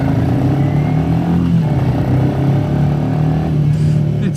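A Royal Enfield Meteor 350 motorcycle with a belt drive cruises in third or fourth gear. Its engine drones steadily and loudly throughout with a constant hum and no pauses.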